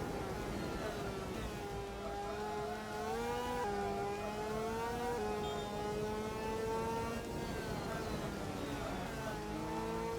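An Aprilia motorcycle engine wails in a MotoGP racing video game during season mode, its high revs rising and dropping through gear shifts in a continuous, loud whine.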